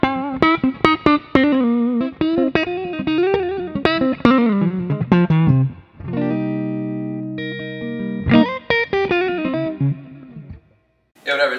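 An overdriven electric guitar plays a lively run of plucked notes, then lets a distorted chord ring out before more picked phrases.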